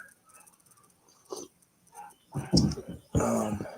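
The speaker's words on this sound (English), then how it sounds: "my dog's going crazy upstairs, of course" A dog barks excitedly upstairs in a house, muffled through the floor, with a loud cluster of barks near the end after quieter, scattered household sounds.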